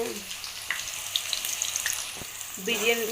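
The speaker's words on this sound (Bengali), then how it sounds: "পেঁয়াজগুলোকে ভাজা করে নেবো" Onions fry in hot oil for a paneer dish, producing a continuous close sizzle with occasional utensil taps, and a voice speaks briefly toward the end.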